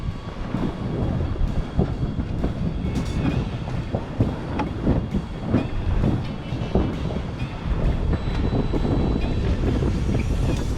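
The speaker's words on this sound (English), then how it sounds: "Alright, so we're going to flog the sail." Sailboat sail flogging hard in strong wind, a loud, continuous rumbling flutter with irregular snapping bursts, close to the microphone and mixed with heavy wind buffeting; no talk.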